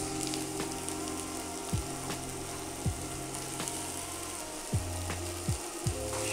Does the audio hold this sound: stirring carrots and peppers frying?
yes